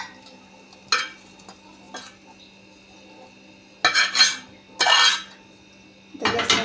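A spoon scrapes softened dates out of a hot pan while making date ladoos. Several short, separate metallic scrapes fall against a quiet background, with the last few louder and closer.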